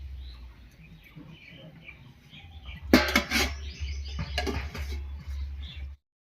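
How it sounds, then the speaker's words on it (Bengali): A pot lid comes off a vegetable curry with a bright metallic clatter, followed by light scraping and clinks of a utensil as chopped coriander is scattered over, amid faint background chirps. "এবার ঢাকা খুলে ধনে পাতা কুচি ছড়িয়ে নামিয়ে নিচ্ছি"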